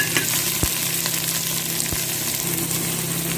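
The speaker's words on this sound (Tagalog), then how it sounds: "Ngayon isunod ko naman yung sibuyas" Onions go into a hot frying pan for an Arabian-style vegetable dish, producing a loud, steady sizzle close up with a couple of faint thuds from stirring and no talking.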